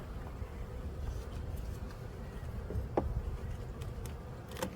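Spring honey bees drone around hive frames in a low, continuous buzz, close by, broken by a few brief clicks and knocks of frames being handled, with no talking.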